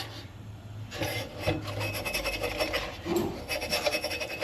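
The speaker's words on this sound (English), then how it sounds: "I'm going to spend another few minutes just going around hitting this a little bit more with the Scotch-Brite" A Scotch-Brite pad scrubs an old metal CT Ham top lift lantern in steady, close rasping strokes, repeated in a quick back-and-forth rhythm with no talking.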